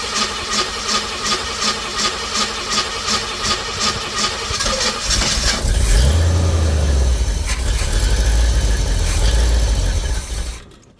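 A reassembled pink Jeep's engine is cranked with a rhythmic, repeating churn, then catches and runs as the throttle is worked. A deep, loud rumbling rev follows, close by, before it cuts off abruptly.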